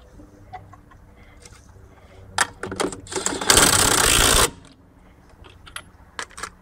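Pneumatic impact guns fitted with sockets let out one loud, sustained buzzing burst of about a second, close by, with scattered metallic clicks and clatter of handling before and after; no talk.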